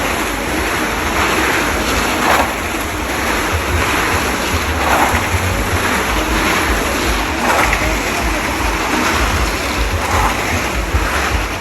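Motorcycles ride the wall of death at a provincial annual fair in Chonburi, making a loud, continuous roaring rush that swells and fades in regular passes close by, with no talking.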